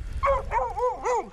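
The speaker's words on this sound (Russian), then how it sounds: "Че лаешь так сильно?" A dog at a lakeside fishing spot for crucian carp gives three or four loud, close, yelping barks in quick succession, with a whiny rising and falling pitch.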